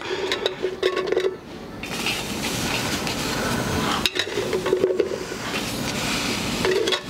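Whole, uncut green chillies dropped into a hot cooking pan for a Telugu chukkakura pachadi, giving a loud, steady sizzle with clinks of metal utensils at the start and again midway.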